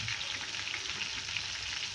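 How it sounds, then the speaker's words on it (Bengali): Broiler chicken pieces fry in oil until browned, giving a dense, constant sizzling hiss that stays close and even through this brief moment, with no talking. "মাংসটি ভাজা প্রায় শেষ"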